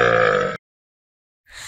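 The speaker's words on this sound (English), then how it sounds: "Not to burp during mealtime." A cartoon character lets out a single loud, drawn-out burp at lunch, followed by a second of silence before another sound begins.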